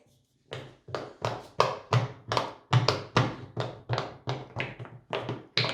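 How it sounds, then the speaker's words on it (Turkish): A pop it fidget toy having its silicone bubbles pressed one after another, about a dozen sharp close popping taps in a quick, slightly uneven rhythm after a brief silence. "Bıdır bıdır bıdır patlattım hepsini"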